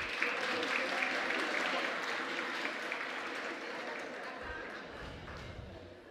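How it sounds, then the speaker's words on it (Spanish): Audience applause at a regional student oratory competition in Colón, steady dense clapping throughout that tapers slightly toward the end, with a voice faintly audible underneath. "Fuerte el aplauso"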